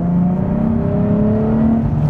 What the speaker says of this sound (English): Let's put it into first and just set off nice and gently.